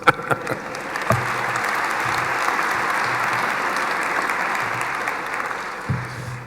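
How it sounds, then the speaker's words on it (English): A large audience at a City of Glasgow College winter graduation ceremony breaks into sustained applause, a dense, even wash of clapping lasting several seconds in a big hall, with a few isolated claps at the start. "that does deserve a round of applause"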